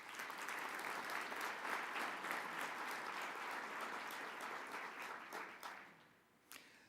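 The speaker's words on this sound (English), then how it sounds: "Let's give them a round of applause." Applause fills the hall at an ASCE convention, a crowd clapping steadily for several seconds before thinning out to a few last claps near the end.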